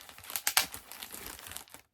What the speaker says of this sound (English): And this one, I gotta kind of unwrap a bit.